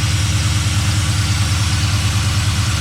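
A Chevrolet LS1 V8 swapped into a Nissan Patrol GU idles high and steady, a close, loud, continuous low rumble with an even pulsing throb and no talk over it.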